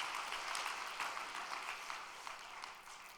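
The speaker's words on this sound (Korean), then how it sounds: "여러분 따뜻한 격려의 박수를 참 부모님께 올려주시기 바랍니다" Faint, distant clapping from a church congregation offering encouragement to the True Parents, a soft, continuous patter heard from far back in the hall.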